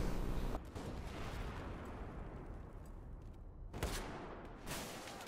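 XM25 airburst grenade launcher fired at a tank in Battlefield 4, sharp explosive blasts at the start and near four seconds with a rumbling decay and a smaller burst afterward, booming over a dense low roar.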